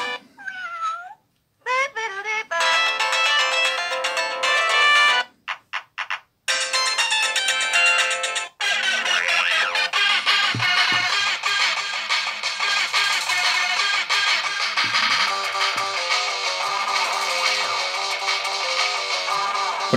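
A melodic electronic ringtone from a 2004 Samsung SGH-C225 mobile phone with vibration plays loudly and continuously, starting in short bursts, then running as a dense, buzzing tune.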